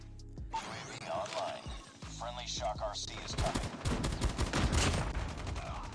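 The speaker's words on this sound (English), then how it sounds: "I am tap firing anyway." Short bursts of S36 gunfire in Call of Duty Mobile crackle through a busy game mix, with denser shots and impacts building toward the end over background game noise.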